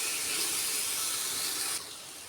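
Sliced onions sizzle in hot oil in a pan, a loud steady hiss that drops off sharply near the end, with no voices.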